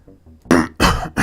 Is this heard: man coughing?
yes